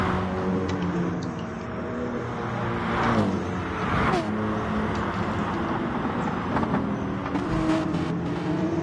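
Porsche 911 race car in a racing video game, engine revving up and down through gears with rising and falling whine, other car sounds mixed in, while a commentator talks over the race.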